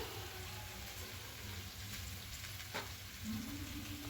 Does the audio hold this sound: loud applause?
no